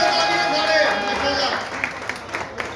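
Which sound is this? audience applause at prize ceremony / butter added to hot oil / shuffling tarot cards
audience applause at prize ceremony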